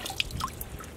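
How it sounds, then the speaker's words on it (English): Indigo-dyed fabric, just lifted from the dye vat, drips into rinse water with a few quick, light splashes and patters, close by and quiet, over a soft background hiss. "let's pull it out and immediately go into our rinse water"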